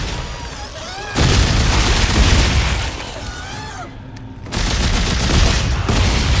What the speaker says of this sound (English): Shot that fella in the legs and blew his head off.